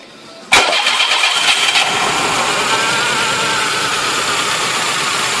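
Automatic Volkswagen Quantum car engine cranking with a sharp catch, then settling into a loud, steady idle that runs alone close to the microphone.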